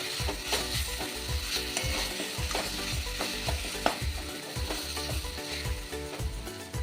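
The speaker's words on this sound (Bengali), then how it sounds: "এবার এটা ভালো করে মিশিয়ে দেব।" Cumin seeds and asafoetida sizzle and fry in ghee for rice while a spoon stirs and scrapes steadily through the pan, giving a rhythmic clatter over continuous crackling, with no talk.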